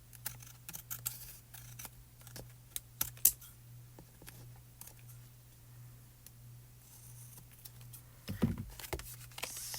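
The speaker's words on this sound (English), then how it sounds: "Let me cut off all the excess." Scissors trim excess material from a card-making project. Sparse, quiet snips and small handling clicks come at irregular intervals over a low steady hum, with a slightly louder rustle near the end.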